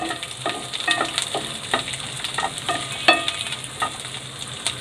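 Chopped onion frying in butter in a pan, a steady close sizzle broken by repeated stirring scrapes and clicks, with no talking.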